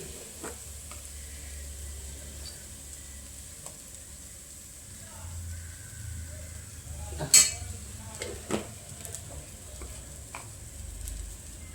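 Ghee sizzles in a pan for upma, a soft continuous fry with a few sharp utensil clicks and scrapes, faint and close with no talking.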